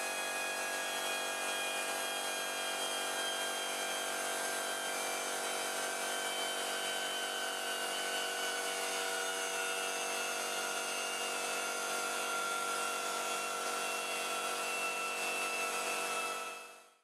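An air-powered tool running from a compressor as the air pressure drops, a continuous whining, buzzing drone whose pitch slowly falls over many seconds before it cuts off at the end, with no talking.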